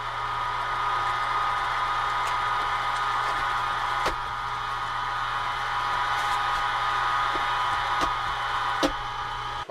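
A meat grinder runs steadily on a second grind of mixed deer and wild hog sausage, a constant loud whirring motor drone with a few sharp clicks and knocks scattered through it, no voices.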